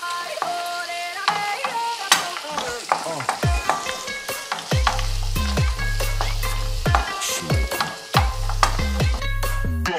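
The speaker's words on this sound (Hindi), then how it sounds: "और इसे भी सॉटे कर लेंगे. अब मैं डालूंगी इसमें हैंडफुल ऑफ कैशियोज." A handful of cashews sautéing in a pan with spring onion for a garlic baby corn starter, crackling sizzle broken by sharp metallic spoon clinks and scrapes, then a loud low sustained hum beneath the frying.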